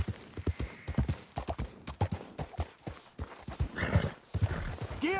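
A horse gallops in Red Dead Redemption 2, with rapid, driving hoofbeats drumming close and loud and a brief snort or whinny toward the end.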